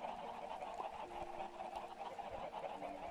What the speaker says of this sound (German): Schön, dass die Hühner laut sind